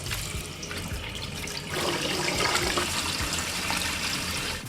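Water runs steadily while soaked Sela Basmati rice is washed and drained for Kabuli Pulao, a continuous splashing rush that swells louder partway through.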